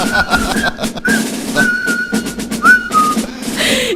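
A person whistles a wavering, high-pitched tune in short phrases with gaps between notes, close and clear over light background noise.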